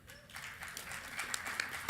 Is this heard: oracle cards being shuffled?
no